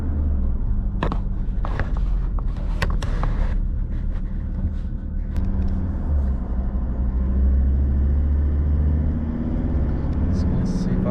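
A 2021 Ford Ranger PX3 rolls along a street with a steady low engine and road rumble inside the cab, scattered clicks and knocks over the top, and a slight rise as it gently accelerates.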